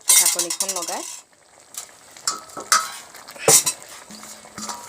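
A spoon stirs a pumpkin and chickpea curry in a metal pan, scraping and clinking against the pan with soft sizzling between strokes and a few sharper clanks, close and moderately loud.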